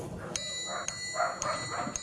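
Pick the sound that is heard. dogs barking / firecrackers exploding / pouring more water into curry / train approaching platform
dogs barking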